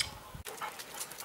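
Golden Retriever puppies and grown dogs pant and snuffle close by in quick, breathy bursts, with a brief louder yip-like sound near the start.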